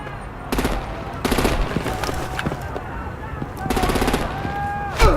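Bursts of machine-gun fire erupt in the Batman: The Enemy Within game, three sharp rattling volleys over a rumbling background, with someone talking between them.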